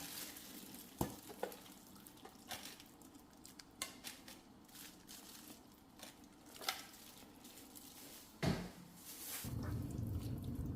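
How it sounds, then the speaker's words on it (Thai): Chive dough mixture being stir-fried in a pan for Thai chive cakes, giving a soft continuous sizzle with scattered scrapes and knocks of a utensil, then a louder rushing burst near the end. "จะนำไปผัดในกระทะนะคะ"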